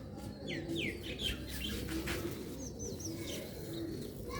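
Rooftop pigeons of the Sialkoti breed coo softly and repeatedly at close range, with bright chirps and tweets from other birds over a steady background.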